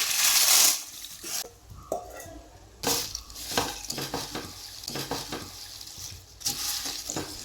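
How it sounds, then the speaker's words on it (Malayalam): Papadam and egg cooking in masala are stirred in a frying pan, with a steady sizzle under repeated scraping and clattering strokes of a spoon against the pan, close and fairly loud, with no speech. "മസാലയൊക്കെ പിടിക്കത്തക്ക രീതിയിൽ ഇതെല്ലാം കൂടെ നമുക്കൊന്ന് ചേർത്ത് ഇളക്കി കൊടുക്കാം."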